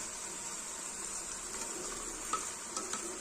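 Ground masala paste sautéing with tomato purée in a pan over low to medium heat for a dhaba-style garlic-fenugreek dish, a soft steady sizzle with a few light spoon clinks and scrapes, faint and continuous.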